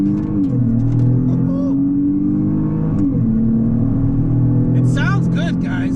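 A 2021 Dodge Charger GT in sport mode accelerates from inside the cabin, its engine and exhaust droning loud and steady as the pitch climbs, while someone talks over it.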